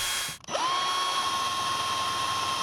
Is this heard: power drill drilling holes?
yes